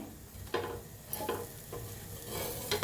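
Eggplant slices fry in a pan with a steady low sizzle, broken by a few sharp clatters as pieces are turned over, with no talking.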